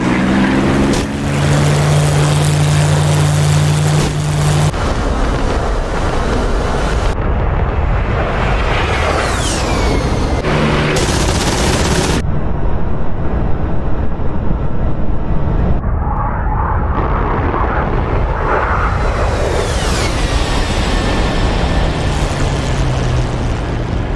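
A BF-109 dive-bombing attack in a World War II-era war video game: a dense, loud wash of engine roar, whines and explosive rumbles, cut by abrupt changes, with no voices.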